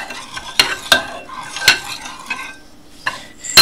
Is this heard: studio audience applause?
no